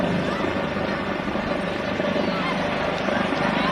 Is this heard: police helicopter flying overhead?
yes